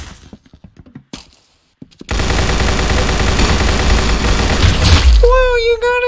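Rapid automatic gunfire in the Roblox game Arsenal, a loud continuous burst of dense shots lasting several seconds after a few quieter clicks, ending as a voice speaks over it.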